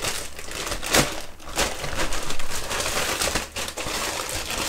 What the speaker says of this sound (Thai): ถุงพลาสติกเดี๋ยวเรามาแกะกันเลยนะครับ ผมก็จะไม่ดึงตรงนี้แล้วใช้มีดกรีดไปเลยนะครับ